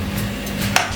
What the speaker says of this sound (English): shear this beautiful lamb chops